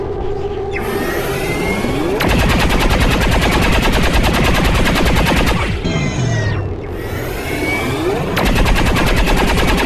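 Automatic weapons fire in the video game XCOM 2, loud sustained bursts of rapid gunshots with a brief whooshing lull between volleys, dense and close throughout.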